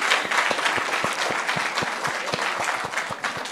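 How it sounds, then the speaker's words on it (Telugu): Audience applause at a film success meet for the Telugu film Naa Saami Ranga, a steady crowd clapping with distinct sharp claps throughout, fairly close and continuous. "ప్లీజ్ అందరు ఒక్కసారి వీళ్ళందరూ క్లాప్స్ అండి."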